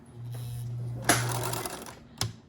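A sewing machine chain-piecing face mask fabric, feeding one piece after another without cutting the thread: a quiet, steady motor hum runs for over a second, broken by a couple of sharp clunks.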